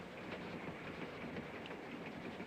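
A train runs on rails as a 1955 radio drama sound effect, a steady rolling rumble with faint rhythmic clickety-clack, heard quietly and alone.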